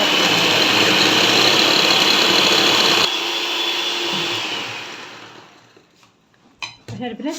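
Electric mixer beating butter and sugar to a creamy texture, a loud steady whirring with bowl rattle that runs for several seconds, then winds down and fades, followed by a few brief clatters.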